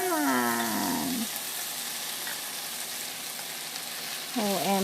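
Tofu fries in a pan for tofu sisig, a soft steady sizzle running throughout beneath a voice that rises at the start and again at the end.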